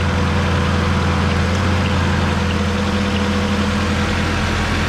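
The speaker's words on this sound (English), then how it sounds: "And then now we have this fan also running" A 1988 Mazda 323 idles steadily with its cooling fan running, a constant close whir of air over the low engine hum, with no talking.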